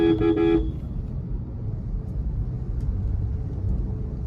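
Road traffic near Tirumala, opening with a loud car horn blast for about half a second, then a steady rumble of engines and passing vehicles.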